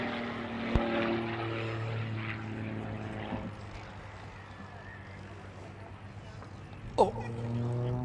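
Aerobatic propeller airplane flying a knife-edge slide at an aerospace expo air show, its engine droning steadily at a distance with pitch shifts, a sharp transient near the start and a brief louder surge near seven seconds.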